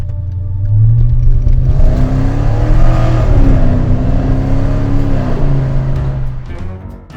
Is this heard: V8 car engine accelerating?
yes